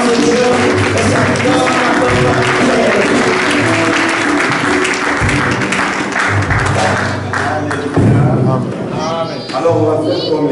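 Church congregation applauding loudly and continuously, dense clapping filling the room with voices mixed in throughout.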